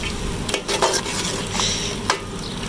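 Chicken chana dal gosht being stirred in a pot, a spoon scraping and clinking against the metal with soft sizzling underneath, several irregular stirring strokes close up and without talk.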